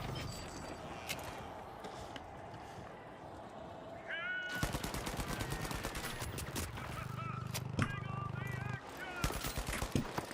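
Minigun fire in the online shooter game The Finals rattles in long, rapid bursts of close, sharp shots, broken by short gaps, mixed with other game sounds and a voice.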